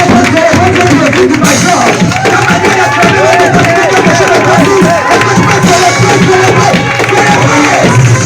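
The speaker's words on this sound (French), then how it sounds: "Est-ce que tu peux acclamer pour Dieu?" A church congregation at a prophetic Sunday service cheers and acclaims God in a loud, dense crowd roar, with voices mixed into the noise throughout.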